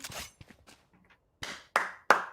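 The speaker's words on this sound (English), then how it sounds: "I'm gonna clap for Veggie Clapper there" Hand clapping at an esports match, a few sharp, close claps in an irregular rhythm following scattered softer taps, with no voices.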